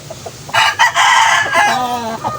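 An Eldama Gray rooster crows loudly and close by in a single drawn-out call of about two seconds, with a steady low background hum and no talking.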